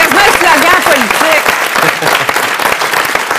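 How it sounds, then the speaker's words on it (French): A studio audience at an art-for-healing television broadcast applauds loudly and steadily, a dense wash of clapping that fills the whole moment, with cheering voices mixed in. "Hey, allez, on applaudit."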